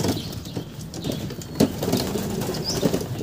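A racing pigeon's wings flap in brief bursts close by, with soft cooing and rustling between them.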